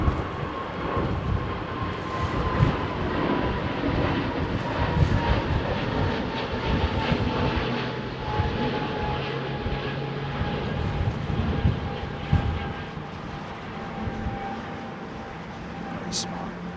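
A jet aircraft engine roars continuously at Heathrow Airport departures near runway 27R, a loud, broad, steady rumble with a sustained whine, as people talk briefly nearby.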